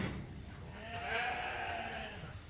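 A ewe bleats once in a long wavering call from a group of sheep in a pen, faint and a little distant over quiet background noise.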